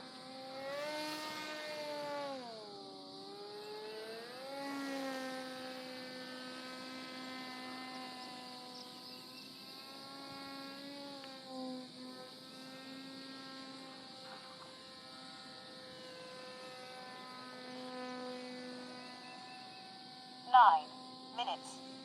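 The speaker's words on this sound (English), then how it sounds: "The motor's pretty quiet." The electric motor of a Crash Test Hobbies Assassin RC plane in flight gives a faint, steady whine whose pitch glides up and down as it passes, with a couple of brief thumps near the end.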